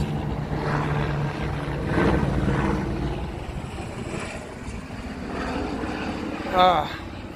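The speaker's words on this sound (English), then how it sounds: "Fucking hate helicopters. I'm so close to the airport, I hear them constantly." A helicopter drones steadily in the background, its engine and rotor noise rumbling under talking throughout.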